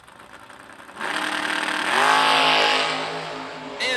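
At a drag strip, cars including a Chevy II launch and roar away. Engine noise rises sharply, then swells into a loud revving peak that fades as the cars pull off, with a brief burst at the end.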